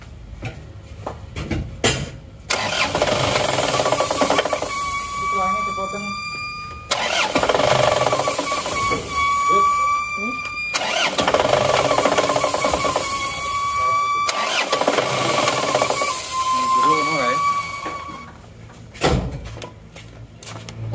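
A diesel engine with its air intake blocked by a reversed filter cranks on the starter in three long whirring bursts, each fading without catching. Short pauses separate the bursts, and clicks and handling noises come before and after.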